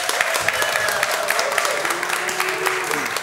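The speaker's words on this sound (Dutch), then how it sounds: "Heeft u allebei uw applaus gehad?" Applause from the audience at a Dordrecht municipal election debate between lead candidates, a dense steady wash of clapping, fairly loud, with voices murmuring faintly underneath.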